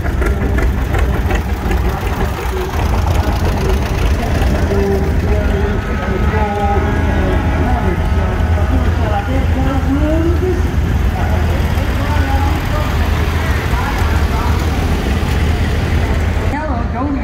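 Antique tractors from a tractor club rumble and idle close by in a small-town parade, a steady low engine drone with knocking beats throughout, while people talk over it.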